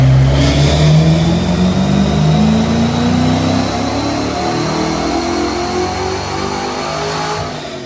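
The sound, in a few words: car engine revving on a dyno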